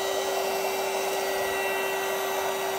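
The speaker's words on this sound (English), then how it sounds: "We're doing our vacuum space saver bags this time" A vacuum cleaner drawing air out of bulky space saver bags while packing for a family ski trip, a loud steady whooshing drone that runs unbroken and up close.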